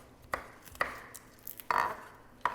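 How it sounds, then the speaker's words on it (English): Fresh tomatoes being diced with a knife on a board, a handful of sharp, separate chopping knocks at uneven intervals, close and fairly quiet. "Okay, so diced tomatoes."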